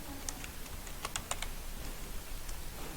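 Keys tapped on a computer keyboard while writing a C program, with a few crisp clicks in quick clusters, the Enter key among them, close and fairly quiet over a low steady background hum.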